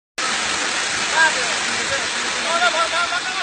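Water spraying from a fire engine's hose pipe, a steady dense hiss and rush of water that starts abruptly and continues loudly and close, with no talking over it.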